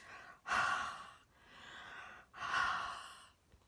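Two long, breathy exhalations are blown close onto an inked rubber stamp, each a soft airy huff lasting about a second, separated by a quieter inhale.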